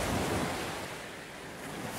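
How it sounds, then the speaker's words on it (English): Ocean waves crash and wash onto the shore, a steady, close, full-bodied roar of surf with a slight swell at the start and no voices. "The waves crashing onto the shore,"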